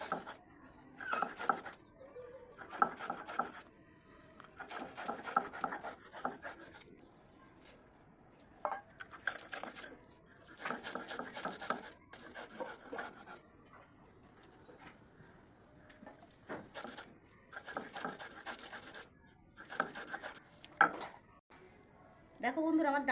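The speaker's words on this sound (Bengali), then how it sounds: "ডালটা বেশি বাটবো না, আধ বাটা করে বাটবো।" Soaked masoor dal being ground by hand into a coarse paste, heard as repeated scraping, grinding bursts in a steady rhythm with short pauses, close and moderately loud.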